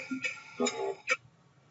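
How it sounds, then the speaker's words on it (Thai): A cheerful short sound effect plays back in the Stencyl game editor, with three quick bright chime-like bursts over about a second, fairly faint and alone. "นี่คือเสียง Happy Sound นะครับ"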